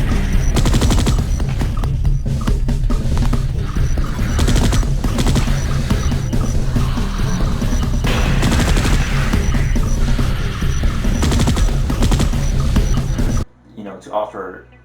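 Sentry guns fire in dense, continuous bursts in the sci-fi shooter Space Beast Terror Fright. The rapid, loud gunfire fills most of the stretch and then cuts off abruptly near the end.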